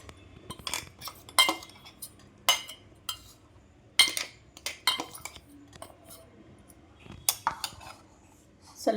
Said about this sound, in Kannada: ಇದಿಷ್ಟನ್ನು ಚೆನ್ನಾಗಿ ಮಿಕ್ಸ್ ಮಾಡಿಪ್ಪ